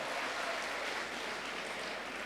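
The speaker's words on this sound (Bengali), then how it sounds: "ওর জন্য একটা করতালি দাও।" An audience claps steadily through a motivational talk to students, a broad even burst of applause filling the hall with no voices over it.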